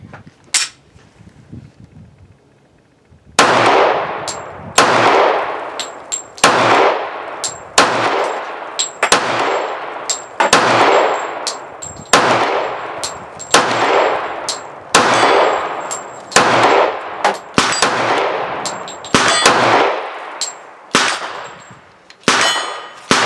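A Walther PPQ pistol in .45 ACP fires a long string of loud, sharp shots at an outdoor range, evenly spaced at roughly one to two second intervals, each ringing off with a metallic clang.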